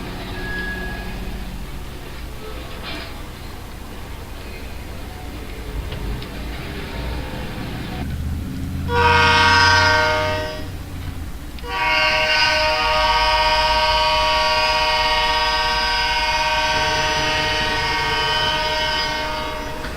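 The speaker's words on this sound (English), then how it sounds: "the train rolls out of West Mill and heads to Mayfield Yard" Freight train rolling out of West Mill toward a yard, with a low rumble and clanking of cars, then two loud sustained horn blasts, the second long and steady, with no talk.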